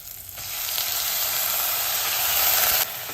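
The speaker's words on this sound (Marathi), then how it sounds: "आता मटकी चांगली तीन चार मिनटं परतून घेऊया" Moth beans (matki) sautéing in a pan with hing, turmeric, curry leaves and chopped onion, giving a steady close sizzle that swells and brightens partway through, then drops back near the end.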